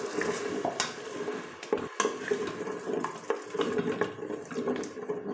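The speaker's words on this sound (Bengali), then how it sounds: "এটা ভালো করে নেড়ে নেবো।" A spoon stirs a paste of tomato, yogurt and green chili into chicken chole in a pan, scraping and clinking against the metal in repeated strokes over a soft sizzle, close and with no talking.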